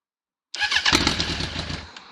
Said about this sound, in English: I just smacked that solenoid a couple of times, and then it sort of like started turning over